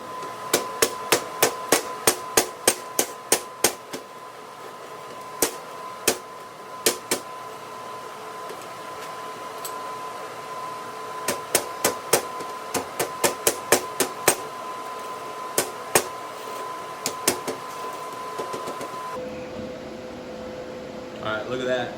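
Hammer blows drive steering neck cups into a shovelhead chopper frame in a workshop, sharp metallic strikes in quick bursts with short pauses, a steady mains hum underneath, ending in a brief shift of background noise.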